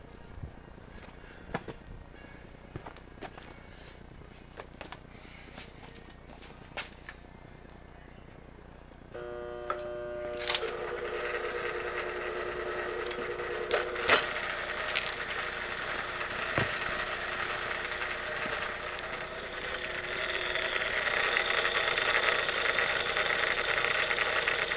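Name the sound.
vintage air compressor motor starting up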